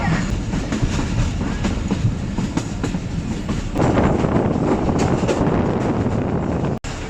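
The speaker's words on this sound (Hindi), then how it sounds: "एक और कंटेनर ट्रेन आ गई है HB20 के साथ।" A container train hauled by an HB20 locomotive arrives at a railway station in heavy rain, its steady rumble and wheel clatter filling the scene and swelling louder about halfway through.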